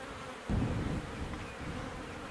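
Honey bees swarm around an open hive as frames are handled, a steady close buzzing hum that swells suddenly and then holds on, continuous and fairly loud.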